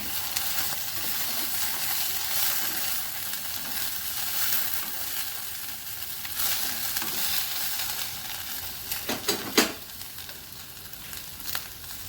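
Chopped green chillies go into okra and potatoes frying in a pan, a continuous close sizzle with light stirring, and a brief cluster of metallic clinks and scrapes near the end.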